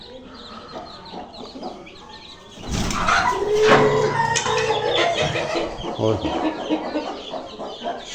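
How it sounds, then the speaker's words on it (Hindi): A hen clucks near its water dish, joined by other chickens in a lively, fairly close burst of clucking and calls that swells partway through, with brief speech mixed in. "प्यास लगी थी मुर्गी को"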